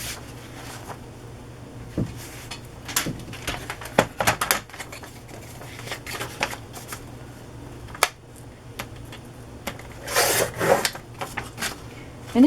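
Scissors snipping and rustling through paper pages for a junk journal, a scattered run of dry crisp cuts and paper shuffles at close range, with a couple of louder bursts near the end.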